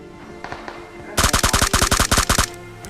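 Rapid burst of automatic gunfire from behind the player in a battle royale video game, about a dozen sharp evenly spaced shots in quick succession after a few fainter distant pops.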